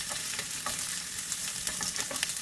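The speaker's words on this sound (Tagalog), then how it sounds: "Igigisa lang natin itong sibuyas" Sliced onions sauté in hot cooking oil in a pan, giving a continuous close sizzle punctuated by sharp stirring clicks and scrapes.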